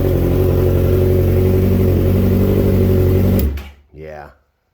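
A 2009 Suzuki GSX-R 600 supersport with a Two Brothers aftermarket exhaust holds a loud, steady high-rev roar close by for several seconds, then drops off sharply, with a brief blip before silence.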